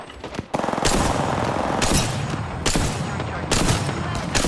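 Gunfire in the video game Apex Legends: repeated loud bursts of shots and booming blasts in quick succession, dense and close throughout, with a few sharper impacts standing out.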